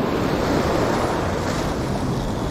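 Ocean surf at a beach at dusk during summer surf fishing makes a continuous, full roar of breaking waves mixed with wind buffeting the microphone.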